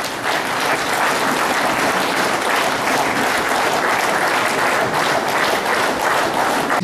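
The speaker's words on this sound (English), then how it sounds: "give a round of huge applause" Steady, dense applause from a large crowd, loud and sustained throughout with no pauses.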